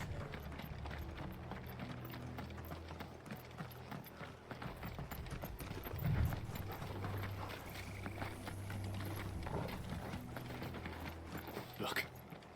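Horse hooves clip-clopping in Final Fantasy XVI gameplay, a rhythmic mid-distance trotting beat mixed with mechanical creaks and game ambience, with voices speaking over parts of it.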